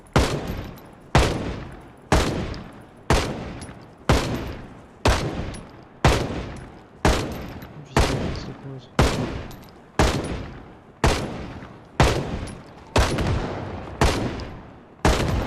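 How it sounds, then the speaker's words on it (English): Rifle gunfire in a video game heist raid on an icy hard mode map: about fourteen loud, sharp shots evenly spaced roughly a second apart, each with a decaying tail, no talk. "alright, firing. Is that a rifle?"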